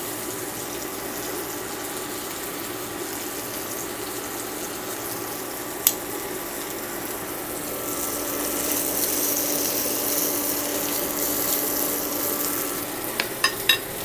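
Swedish meatballs sizzle steadily in a frying pan, a continuous broadband hiss with a sharp tap near the middle and a few clicks toward the end, no voices.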